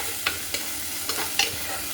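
A spice mixture is stirred and roasted in a hot pan: a continuous sizzle runs throughout, broken by four or five distinct spoon scrapes and knocks at a loose, uneven rhythm, close and fairly loud.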